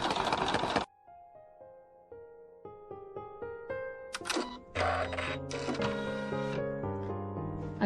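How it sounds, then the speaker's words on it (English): An embroidery machine stitches a large temporary basting stitch around an octagon-shaped quilt block in the hoop, giving a steady mechanical whirr and rapid needle patter with a few brief louder bursts, no talking. "Now I'm going to embroider a large temporary basting stitch."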